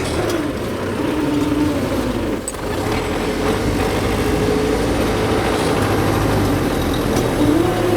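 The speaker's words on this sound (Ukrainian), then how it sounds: "Бачите, трактору важко, заліз по саму раму, силовий режим." An MTZ-892 tractor pulling a PN-3-40 plough strains in heavy soil, sunk to its frame, its diesel engine a loud, constant low drone that holds steady throughout.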